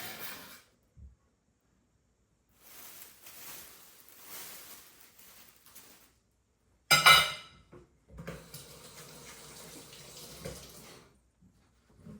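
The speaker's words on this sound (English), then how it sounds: "Put on a pot of water" Tap water runs into a pot in several bursts for Jamaican chicken soup, with a clank of metal partway through and short pauses between pours.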